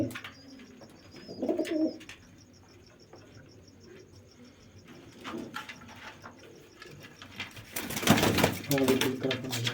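Large pigeons in a loft coo softly in the background beneath someone talking, with faint insect chirring and a steady high whine throughout.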